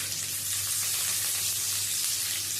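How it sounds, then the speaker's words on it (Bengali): Long-sliced onion frying in hot tempered oil, a steady close hiss of sizzling that holds evenly throughout with no pauses or talking. "পেঁয়াজটা দিয়ে দিলাম।"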